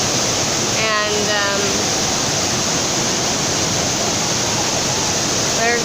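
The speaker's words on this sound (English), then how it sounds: "I'm currently sitting in front of a fountain." Water from a fountain splashing continuously, a loud steady rush heard up close, with a few brief bird chirps over it.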